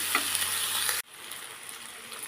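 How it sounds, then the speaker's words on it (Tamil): Tomatoes sautéing in a pan for a spring onion thokku, a steady dense sizzle with stirring that cuts abruptly after about a second and drops to a quieter, continuing fry. "கொஞ்சம் நேரம் தக்காளி நல்லா வதங்கட்டும்"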